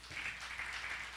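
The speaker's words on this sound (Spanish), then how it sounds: "Damos aplauso al Señor." A church congregation applauds during a Spanish-language sermon, a steady dense wash of clapping that holds evenly for the whole short stretch with no voices over it.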